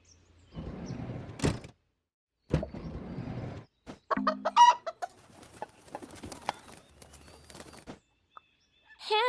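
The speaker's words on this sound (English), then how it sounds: "Chicken." Cartoon farm hen clucking in quick, choppy bursts close up, between brief pauses, with a short spoken word mixed in.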